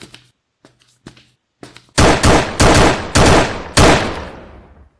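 Video game shooter gunfire: four loud, sharp gunshots in quick succession, each with a decaying tail, following a few faint quieter clicks and thuds.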